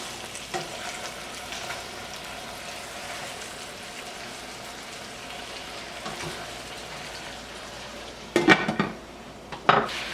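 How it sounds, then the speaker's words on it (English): Hamburger steaks frying in a pan give a steady, broadband sizzle throughout, close and even, broken near the end by a couple of short metallic knocks of a utensil against the pan. "we'll continue cooking them on this side"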